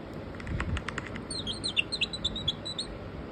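A small bird chirps close by: after a few soft knocks and rustles, a quick run of high, bright tweets repeats in a rapid, uneven rhythm.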